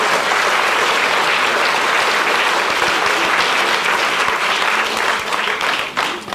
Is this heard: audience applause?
yes